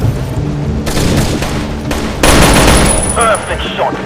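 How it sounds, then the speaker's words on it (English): Dense automatic gunfire from the video game Rainbow Six: Shadow Vanguard, loud sustained bursts rattling throughout with a sharper, heavier volley near the middle and faint voices underneath. "Perfect shot, Fed."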